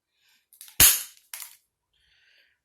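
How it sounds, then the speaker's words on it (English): A new hole punch snaps through paper in one loud, sharp crack, followed by a smaller click as the lever releases, then near silence. "It's going to get loud only because my hole punch is new."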